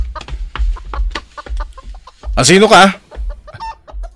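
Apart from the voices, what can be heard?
chicken clucking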